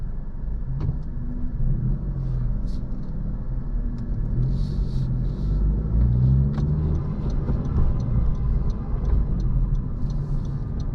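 A car rolling through the New Orleans French Quarter streets, a steady low engine and road rumble heard from inside the cabin, with faint scattered clicks and ticks above it and no talk.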